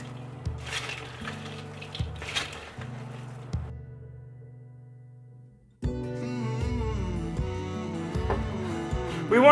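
Broth is poured a little at a time into about ten cups of breadcrumbs for holiday stuffing and mixed in. Liquid pours and splashes, with clinks of a bowl and utensil, and a brief lull partway through.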